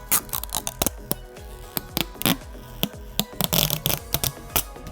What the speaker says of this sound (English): So we have more sticker to remove.